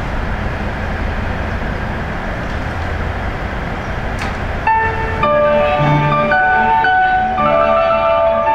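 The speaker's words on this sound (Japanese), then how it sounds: "水戸行きが発車します。" Steady rumble of a JR train at Iwaki Station, then a rising electric motor whine with several overlapping tones as the Mito-bound train starts pulling away.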